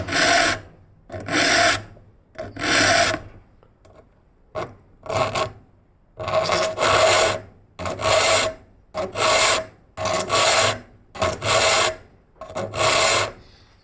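A hand file sharpening the chisel teeth of a forestry clearing saw or brush cutter blade makes loud, close rasping strokes, about a dozen repeated at a steady, slightly uneven rhythm with short pauses between them.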